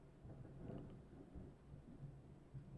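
Faint low thunder rumbles during a storm in Lakeland, with a soft background wash of steady rain.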